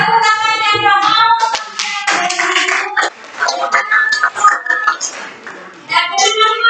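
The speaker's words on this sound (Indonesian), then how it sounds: "tepuk tangan yang mau" Audience hands clapping in a classroom, a burst of applause mixed with children's voices and clinking, heard among chatter.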